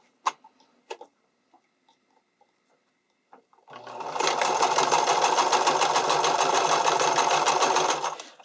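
Sewing machine stitching close to the edge of an underwire bikini top seam, one steady sustained run of rapid rhythmic stitching after a few faint clicks and taps.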